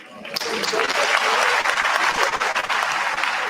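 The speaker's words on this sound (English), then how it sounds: "Thank you yourself a very big round of applause" Sustained, dense applause from an audience at an induction ceremony for newly qualified medical and dental practitioners in Ghana, swelling quickly after a short quiet start and holding steady throughout.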